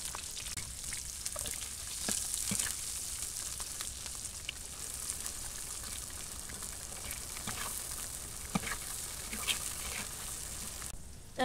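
Chopped onion and green chili sizzle steadily in hot oil in a pan, a continuous close frying hiss with small crackles and pops throughout, no talk.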